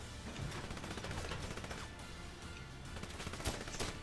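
Enemy gunfire in the video game 007 Legends, dense rapid automatic shots rattling continuously and fairly loud, with a few sharper bursts near the end.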